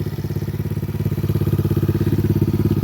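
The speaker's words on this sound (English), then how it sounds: "As you can hear, it's sitting there purring." A 125cc ATV engine, a clone quad engine swapped into the machine, idles steadily with a fast, even putter, loud and close.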